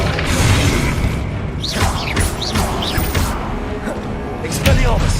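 A Confringo fire spell blast in Hogwarts Legacy, with booming impacts, whooshing magical effects and crashing combat sounds in a loud, busy battle mix.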